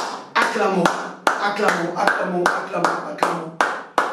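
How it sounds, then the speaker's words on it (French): A congregation applauds during a Monday evening intercession service at a church, with rhythmic bursts of claps landing about every half second over singing voices and a loud, continuous crowd wash. "Acclamons."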